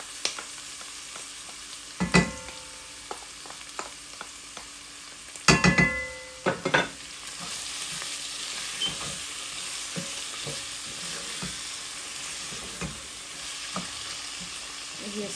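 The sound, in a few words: tomato puree frying for chicken jalfrezi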